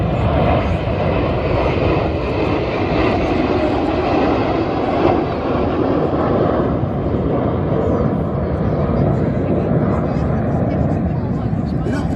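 Red Arrows jet aircraft roar overhead with air brakes out in a loud, steady broadband rush lasting throughout, with a voice talking underneath the noise.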